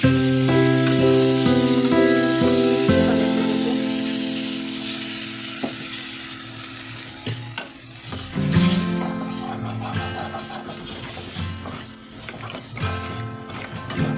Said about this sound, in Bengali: একটু সময় কষিয়ে নেব